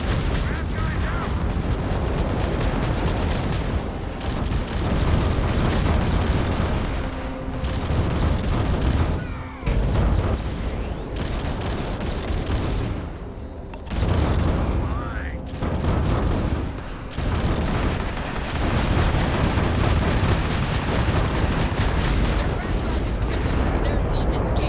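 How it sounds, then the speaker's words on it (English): Ship turrets fire in a dense, relentless barrage during a space battle in Starfield, booming bursts and crackling blasts stacked nearly continuously at high volume, with a voice talking over parts of the fight. "Turrets are going ham."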